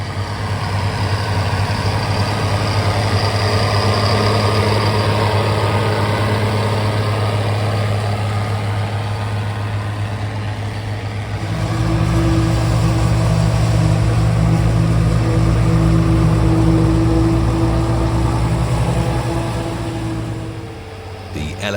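A 130 horsepower Schlüter 1350 TV6 compact tractor engine running steadily, a deep, loud diesel drone that rises to a heavier pitch midway, then eases off at the end.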